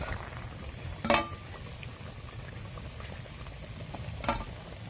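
Palm-fruit fritters (taaler pithe) frying in hot oil, a soft, quiet bubbling patter with two brief louder crackling bursts, no talking.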